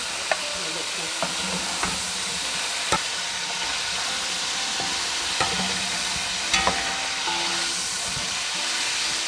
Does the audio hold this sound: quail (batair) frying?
yes